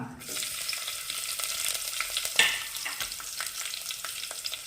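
Chillies and spices sizzle and fry in a hot pan for masala rice, a steady close crackling hiss with a brief louder spatter midway and no talking.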